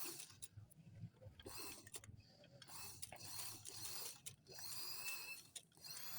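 Sewing machine stitching along buckram at a garment neckline, quiet mechanical whirring and ticking in short bursts with brief pauses between runs.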